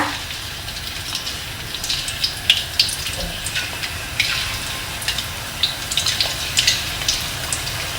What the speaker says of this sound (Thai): เราก็จะเอากล้วยนะคะที่เรา หั่นเป็นชิ้นนะคะใส่ลงไปเลยค่ะน้ำมันก็เริ่มร้อนแล้วนะคะ